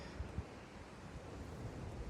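Gusty outdoor wind buffeting a microphone on a windy day at a falconry training ground, a continuous low rumble with a couple of brief thuds, no talking.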